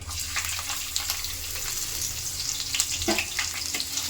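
Garlic fries in oil with cumin, mustard seeds and curry leaves for lemon rice, a steady close sizzle with scattered crackles and pops, continuous throughout with no speech.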